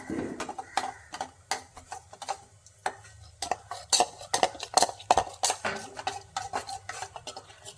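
Ragi flour soup being stirred in a pot, a rapid series of close spoon clicks and scrapes against the metal in an even rhythm over a faint background, with no talking.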